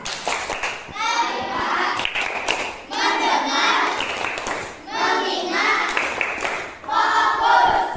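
A class of children performs the 'tepuk fokus' clapping chant, shouting in unison over rhythmic hand claps in four loud, repeating bursts with brief pauses between.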